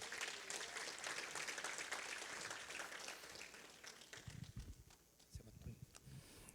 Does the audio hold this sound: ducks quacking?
no